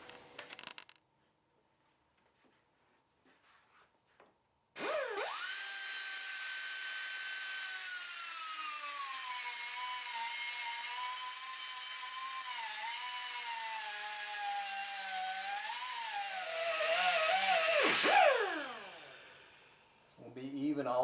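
A power tool cutting a trailing arm bushing in a shop, a sustained loud whining grind for about thirteen seconds that rises in pitch near the end before winding down.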